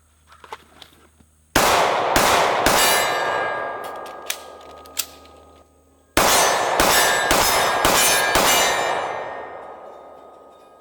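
A Sig P226 pistol (Legion) fires double action at steel targets, two clusters of sharp shots each followed by ringing metallic clangs that decay slowly, with faint handling noises before the first shot.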